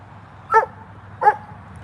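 Two sharp dog barks, roughly 0.7 seconds apart, sound close and fairly loud over a low background hum.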